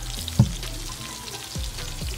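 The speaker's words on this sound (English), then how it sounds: "all I'm gonna do is saute them with that oil and chili mixture" Chicken wings sautéing in an oil and chili mixture, a steady close sizzle and crackle with a couple of brief louder pops, no voices.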